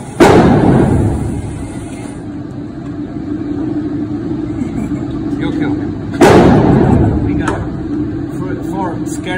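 Two loud gunshots ring out at a shooting range several seconds apart, each a sharp crack with a lingering echo, while people talk nearby.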